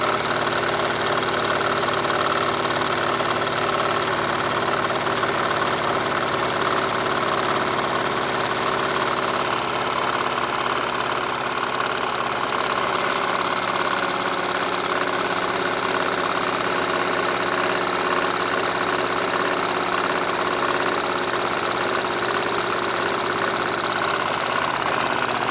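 A small Wilesco D32 toy steam engine runs under pressure with its feed water pump working, giving a continuous dense mechanical hiss and whir with a rapid fine chuffing texture, steady and close throughout with no talk.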